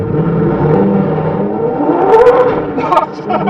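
Pagani Zonda 5 in race mode sends out a close, loud exhaust roar that swells and revs upward, with crackling bursts near the end.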